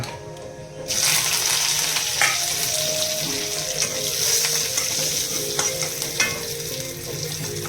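Curry leaves and onions crackle loudly in hot oil for kanda poha, with a dense, continuous stir-fry sizzle that bursts in after a short pause and carries on with occasional stirring knocks, and no one speaks.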